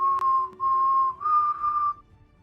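A single whistle blows three sustained, steady tones, each separated by a short break, with the last tone pitched slightly higher before it cuts off. The sound is loud and close, with no voices.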